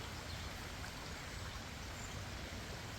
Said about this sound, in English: So by the river.